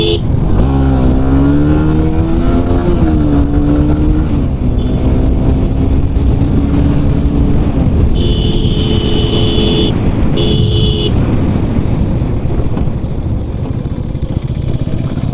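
A motorcycle engine runs hard at high throttle while riding, a loud continuous drone whose pitch climbs in the first few seconds and then holds steady, with a faint whine coming and going near the end.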